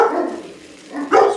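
Dogs bark in a home kitchen during Mongolian beef cooking, two loud close barks separated by a brief lull, with no talking.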